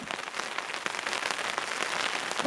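Rain pattering steadily at a lakeside campsite on East Lake, a soft, even patter of drops with small irregular ticks, fairly quiet and continuous with no voices.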